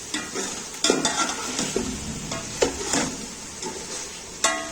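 Chicken pieces sizzle and fry in a pot while a spoon stirs them, with a steady crackling sizzle punctuated by repeated scraping stirs and occasional clinks against the pot, close up.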